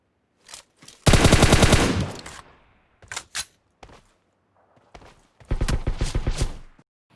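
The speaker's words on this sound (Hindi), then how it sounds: "अब यहाँ पे मुझे लेफ़्ट की तरफ से बहुत सारे फायरिंग के शॉट्स पड़ते हैं" Gunfire in the mobile game PUBG Mobile on the Livik map: a long loud automatic burst, then scattered single shots and another rapid burst, fairly close, with no talking.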